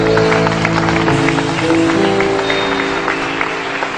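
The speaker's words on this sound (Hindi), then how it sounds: "हम इन्हें रुख्सत करते हैं भरपूर तालियों में" Dense studio audience applause on a televised Pakistani game show, continuous and loud throughout with a steady wash of clapping and faint music underneath.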